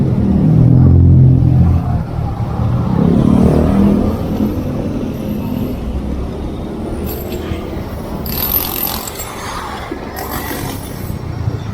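Congested road traffic near Telkom University: idling and revving car engines rumble nearby in a steady drone, with passing vehicles whooshing by and one engine accelerating close up.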